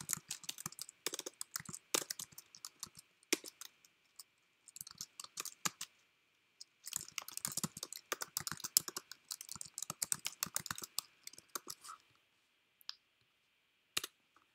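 Rapid bursts of typing on a computer keyboard while entering code, clicks coming in quick clusters with short pauses between runs and one last isolated tap near the end, close and clear with no talk.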